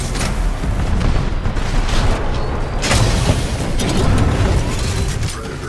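A Titan in the Titanfall 2 video game drops from the sky and lands, bringing loud heavy booms and mechanical crashes that pile up in close, forceful bursts over several seconds.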